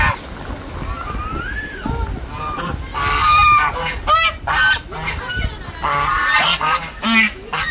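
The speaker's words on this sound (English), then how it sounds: "There are geese here too, not Canada geese, but just normal white geese." Domestic white geese honk loudly and repeatedly at close range, with harsh calls coming in irregular bursts over steady outdoor background noise.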